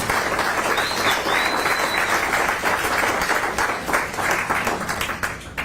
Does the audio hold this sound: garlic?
no